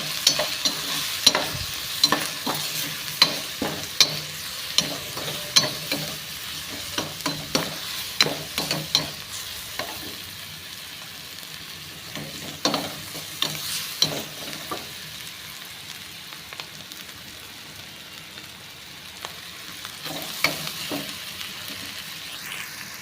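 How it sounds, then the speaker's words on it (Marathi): Spices such as turmeric and coriander powder are stirred and mixed in a frying pan, with repeated scraping strokes of a spoon over a faint sizzle, close and steady throughout. "सगळं मिक्स करून घ्यायचं।"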